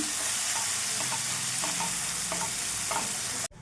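Pumpkin and tomato curry sizzling in a pan while being stirred, a loud continuous fry with repeated scraping strokes, then an abrupt stop.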